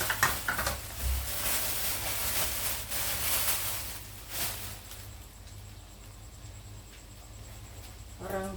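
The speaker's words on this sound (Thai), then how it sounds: "ตอนนี้กำลังเจียวหอมอยู่ค่ะ" Shallots fry in hot oil for a pork-crackling chili dip, a loud, dense sizzle that eases off partway through, with a few faint stirring clinks.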